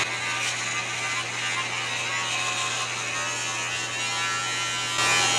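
An electric razor trims a goatee with a continuous close buzzing hum that holds steady throughout and stays loud without pause.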